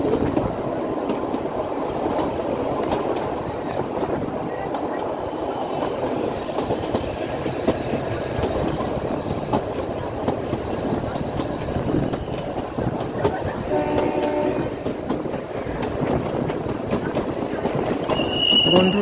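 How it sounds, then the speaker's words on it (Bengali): Kalka–Shimla narrow-gauge toy train running along mountain rails, a steady rumbling roll with rhythmic clickety-clack from the wheels and brief metallic squeals, heard from on board at moderate loudness, with faint voices now and then. "বন্ধুরা, ট্রেন এগিয়ে চলেছে নিজস্ব গতিতে।"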